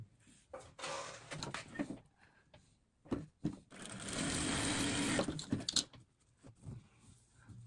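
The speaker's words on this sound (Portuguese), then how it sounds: "vamos passar aqui uma costurinha" A home sewing machine stitches together small fabric scraps, running in short bursts with pauses and then one longer steady run, close by and moderately quiet, with light handling of the fabric between runs.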